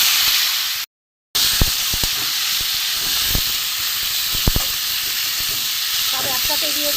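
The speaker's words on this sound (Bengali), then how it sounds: "পটল আলু টমেটো পেঁয়াজ একসাথে দিয়ে দিয়েছি, ভাজা হোক ভালো করে" Pointed gourd, potato, tomato and onion sizzle together in plenty of hot oil, a steady loud hiss with a brief break and a few sharp pops and clinks.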